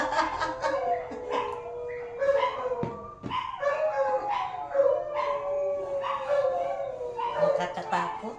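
Several dogs near a house howl together in sustained, wavering cries mixed with yips and whimpers, fairly loud and steady with a brief dip partway through.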